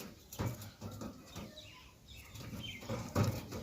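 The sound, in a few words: pigeon flapping wings at Beldanga pigeon market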